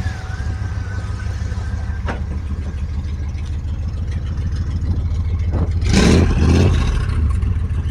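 A hot rod engine idles low and steady, then revs hard with a throaty exhaust roar before settling back down, close by.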